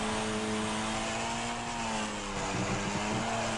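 A steady, droning race car engine in the video game Wreckfest holds a constant tone as it accelerates, racing-style and fairly loud, with no speech over it.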